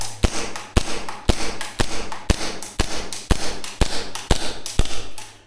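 Rapid string of sharp pops from a Tokyo Marui Chisato airsoft gas pistol firing in close-quarters play, about a dozen evenly spaced shots, close and loud with no speech.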